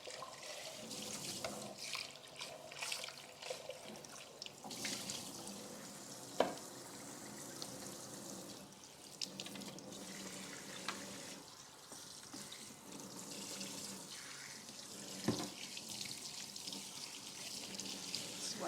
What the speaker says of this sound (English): I'm gonna clean the blender now because we're gonna make smoothies later.